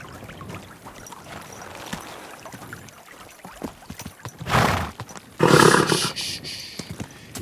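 A horse snorts and whinnies up close, with shuffling and rustling before a loud, raspy burst near the end.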